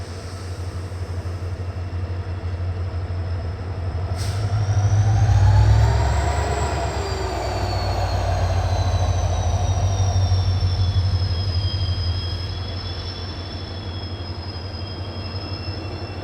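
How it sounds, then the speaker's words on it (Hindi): Mysuru Belagavi Express departs Londa Junction with a steady low rumble of rolling wagons, swelling louder around the middle as cars pass close, thin wheel squeal drawn out above it, no voices. "मैसूरू बेलगावी एक्सप्रेस का डिपार्चर हो चुका है लोंडा जंक्शन से"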